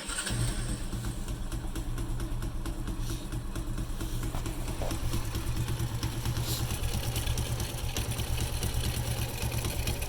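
A Forte 125 motorcycle engine runs steadily after being restarted, a close, loud, even mid-pitched drone with a faint clattering rattle and no speech over it.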